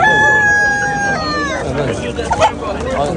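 A rooster at a poultry market in Khojaobod, Uzbekistan, crows loudly and close, one long drawn-out call that trails off into background chatter and clucking.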